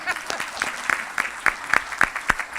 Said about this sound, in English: So I would like everyone to give Vince a round of applause for that.